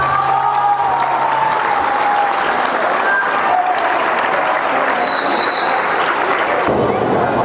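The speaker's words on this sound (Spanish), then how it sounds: "le demos un fuerte aplauso" A dense, steady burst of audience applause fills a Sampedrina festival round in the municipality of Aipe, loud and sustained throughout, with crowd murmur and scattered cheers mixed in.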